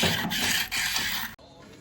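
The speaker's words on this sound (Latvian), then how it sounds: "Notiek spararāta slīpēšana." Abrasive grinding on a car flywheel with the clutch removed, in a workshop: a close, loud, rough rasping that runs steadily, dips briefly, then cuts off sharply near the end.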